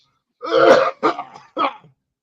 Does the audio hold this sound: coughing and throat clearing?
yes